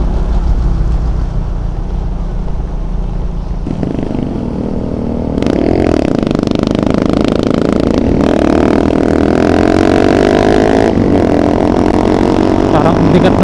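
Motorcycle engine straining up a zigzag road in the Bicol region on a solo ride, a loud continuous drone that rises in pitch and strength as it labors, with wind rumble and some talking over it.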